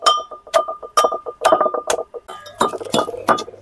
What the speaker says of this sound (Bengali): এখন শুধু এটা করব, বেটে ফেলবো এই হামানদিস্তা দিয়ে।